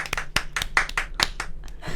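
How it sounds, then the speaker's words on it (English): A small group claps hands in a short burst of uneven, sharp claps, close and with no talking. "Do we need to clap?"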